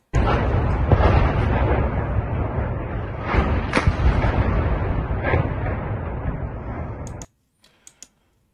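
A loud, rumbling bombing explosion in the war in Ukraine roars for several seconds with sharp crackling bursts, then cuts to near silence with a few faint clicks.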